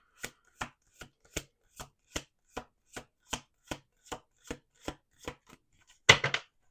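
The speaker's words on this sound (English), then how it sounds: "We're going to do 2 more shuffles." A tarot deck is shuffled with about fifteen crisp, evenly spaced taps, quiet and close, then ends in a short, louder riffle.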